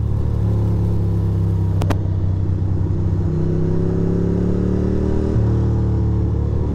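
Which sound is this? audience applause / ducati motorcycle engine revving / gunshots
ducati motorcycle engine revving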